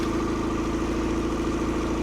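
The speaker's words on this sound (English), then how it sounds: "It's a little high, I think, but it's not bad." A boat engine idling slightly high, running steady and continuous with a rhythmic low throb and mechanical hum, close and fairly loud with no voices.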